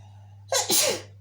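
A single loud, close sneeze set off by hot pepper powder while mixing a foot powder, a sharp inhale followed by an explosive burst, alone without talk.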